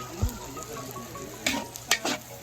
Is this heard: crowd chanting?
no